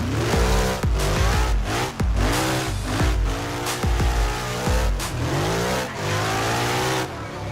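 A drifting car in the Assetto Corsa racing game, driven with an F310 wheel and SP car mod, revs hard and spins through a 360, its engine rising and dropping in repeated sweeps with tire squeal, loud and close.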